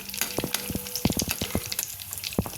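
Vada frying in hot oil in a pan, with oil spooned over the tops: a close, continuous bubbling crackle punctuated by rapid sputtering pops.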